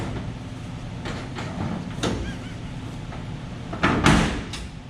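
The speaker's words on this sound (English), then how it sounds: "Close the door, and this again takes some muscle." The enclosure door of a Patriot CNC machine being pushed shut: scraping, rattling handling with a few sharp knocks, ending in a louder heavy clunk near the end, close by over a low room hum.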